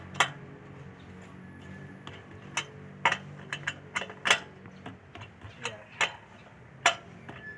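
Ratchet wrench snugging lug nuts on a Toyota Innova wheel during a tire replacement, with bursts of quick metallic clicks and ticks repeating irregularly over a low background hum, close by.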